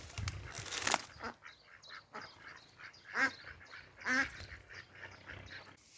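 Ducks and geese honk and quack intermittently at moderate distance, a few loud calls standing out over quieter chatter in an otherwise calm outdoor setting.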